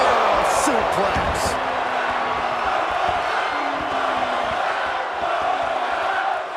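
A suplex slam in the wrestling video game Def Jam 2K22 lands amid a loud, constant arena crowd roar, with a few sharp impact thuds early on and cheering sustained throughout.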